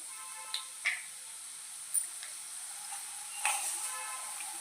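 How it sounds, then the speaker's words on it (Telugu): Urad dal frying in hot oil for tomato onion chutney, a faint steady hiss with a few sharp crackles and pops scattered across the stretch, quiet and close. "ఫస్ట్ ఆయిల్ వేడెక్కిన తర్వాత మినపప్పు వేసుకొని కొంచెం ఫ్రై చేసుకోవాలి"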